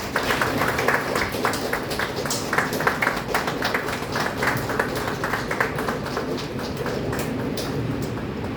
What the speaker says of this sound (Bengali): একটা জোরে করতালি হয়ে যাক।